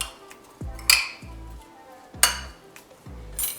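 Paneer tikka marinade being mixed with salt and garam masala in a bowl: a few clinks and scrapes of a utensil against the dish, with low knocks in between, close and fairly quiet, no talk.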